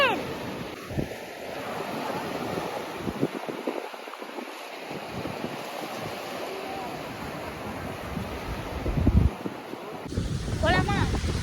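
Surf rolls in steadily at Thoothukudi beach, a broad continuous wash of waves with gusts of wind buffeting the microphone and a few distant voices and chatter in the background.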